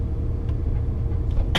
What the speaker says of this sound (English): Nice bit of traffic on the way in.